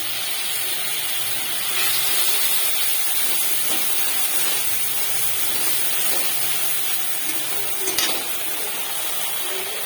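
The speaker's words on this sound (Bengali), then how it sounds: "এখন আমি মশলাটার মধ্যে অল্প জল দিয়ে দেবো।" A splash of water poured into spice paste with turmeric in a hot pan, producing a loud continuous steamy hiss and bubbling that carries on throughout with faint clatter.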